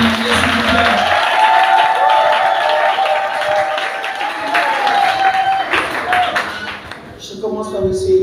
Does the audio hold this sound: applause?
yes